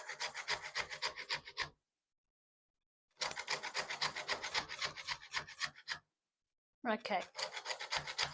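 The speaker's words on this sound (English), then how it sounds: "grater, and then you just carefully zesting the skin" Fruit skin is zested on a grater in three bursts of quick, rhythmic rasping strokes, close and fairly quiet, with silent gaps between them. A voice briefly speaks once.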